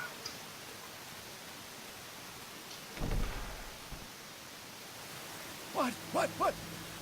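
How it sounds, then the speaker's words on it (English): Steady hiss of rain falling in the game Neverwinter Nights, a constant wash of noise with a brief rumbling swell midway and short bursts of voices near the end. "Only because it's raining."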